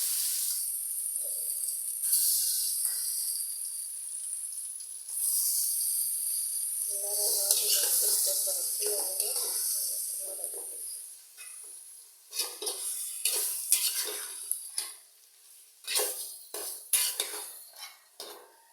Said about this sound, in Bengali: এখন আমি ভাজার ভিতরে এই যে মাংসটা দিয়ে দিব